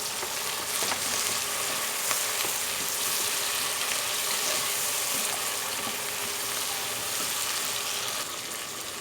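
Diced tomatoes land in a pan of softening onions, giving a loud, continuous sizzle with bright crackling spits that holds steady throughout.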